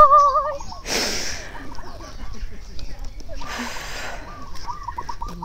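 Birds call and cluck nearby amid a busy background, with two bursts of noisy rustling interrupting the chatter of fowl.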